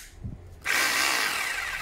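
A handheld power drill set to chisel mode stays quiet for a moment, then kicks in with a loud, steady, high-pitched motor whine that holds to the end.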